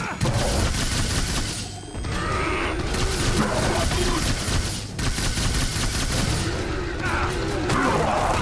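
A grenade explosion and gunfire in the combat shooter video game The Bureau: XCOM Declassified: dense, loud bursts of shots and booming blasts roll on almost continuously, with brief dips between volleys.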